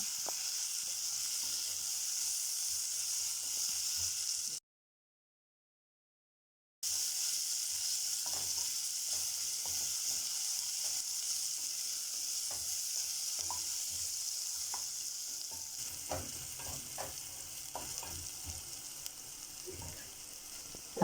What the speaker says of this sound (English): Add in your crushed ginger and garlic. Stir and let fry until fragrant.